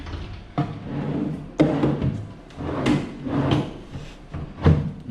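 A stiff, newly built and still unpainted wooden drawer is pulled open and pushed shut several times indoors in a new house, giving repeated dull knocks and scraping slides at close range with no talk.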